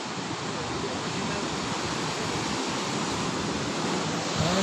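Duduma waterfall roars as a dense, unbroken wash of rushing water, loud and close, holding steady throughout with no pauses.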